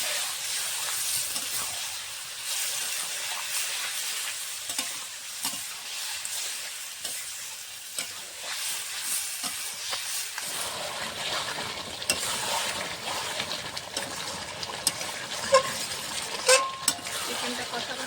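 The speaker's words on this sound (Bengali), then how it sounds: "এই জলে আমার কষানো হয়ে যাবে মাংসটা" Chicken pieces sautéed in ground spice paste for a kosha chicken curry, a constant frying sizzle with repeated scraping and stirring of the pan, louder and busier in the later part, with no talk.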